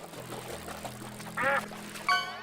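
A duck quacks in the video game Slay the Princess, two short nasal quacks rising above quiet low background game music.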